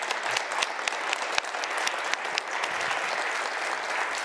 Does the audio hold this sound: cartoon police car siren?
no